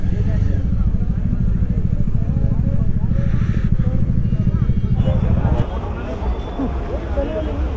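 A motorcycle engine idles and revs on a ride from Manali to Patlikuhal in Himachal, a steady loud drone that drops in level partway through, with a voice briefly audible over it.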